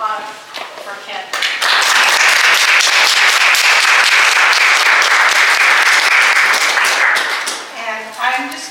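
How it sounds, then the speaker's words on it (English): An audience at a gallery reading applauds loudly and steadily for several seconds, with talk before the clapping swells and again as it fades. "let's give a big round of applause for Kent"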